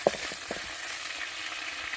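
Tempering for a chutney sizzles in hot oil on a gas stove, a steady bright hiss after one quick crackle at the start, close and constant, with no one speaking.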